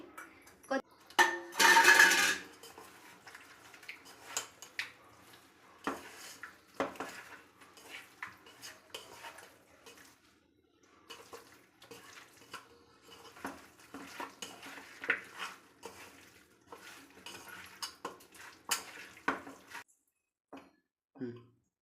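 Chicken for biryani is mixed by hand with garam masala, chicken masala, biryani masala, ginger paste and yogurt, giving sporadic wet squelches and clinks of utensils against a dish, with one loud clatter early on and intermittent talking.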